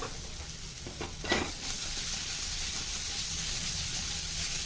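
Ivy gourd masala with sesame seeds being tossed and stirred in a hot pan without a spoon, a steady soft sizzle and hiss with a few scraping shuffles early on.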